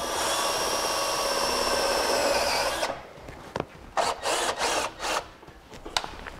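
A power drill whirs steadily for about three seconds, driving a self-tapping screw into the frame of a 2007 Jeep. Short, choppy bursts and clicks follow as the screw seats and the tool is handled.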